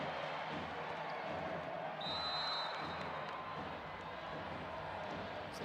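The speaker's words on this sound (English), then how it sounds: "the crowd are very much alive again here." A crowd at a men's club world championship volleyball final roars with sustained cheering that stays steady, with a brief sharp whistle in the middle.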